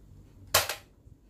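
A toy Nerf long gun fires a single shot: one short, sharp pop followed by a brief rattling tail, fairly close in an otherwise quiet room.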